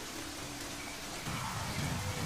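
Heavy rain pours steadily in a wild savanna setting, a dense continuous hiss that swells louder partway through with a deeper rumbling wash underneath.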